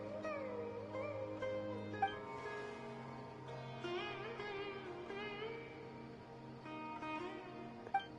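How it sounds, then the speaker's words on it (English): A small cat-like creature in Genshin Impact meows repeatedly, soft and fairly close over quiet game music, with a couple of sharp clicks in between. "It's like some little like cat beast thing"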